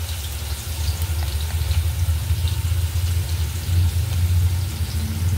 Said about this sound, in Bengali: মশলাটা আমি একটু কষতে থাকবো